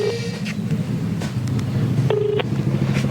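Push-button telephone tones being dialed: a short tone early on, then a longer steady tone later, over a constant low rumbling background.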